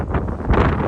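Strong wind gusts buffet the microphone at a seaside fishing spot near Wollongong, a loud, steady rumbling roar with a brief swell in the middle and no voices.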